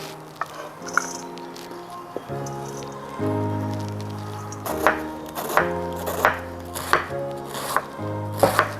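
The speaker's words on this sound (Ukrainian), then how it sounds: "Чим тоньше буде капуста нарізана, тим краще." Steady knife chops on a cutting board, thinly slicing young cabbage, a quick run of sharp strikes alongside sustained tonal background music.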